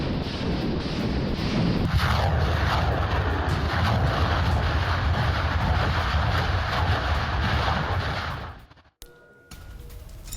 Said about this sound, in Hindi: आप देखिए किस तरह से एमएलआरएस अटैक से यूक्रेनी ठिकानों में मच गई है तबाही।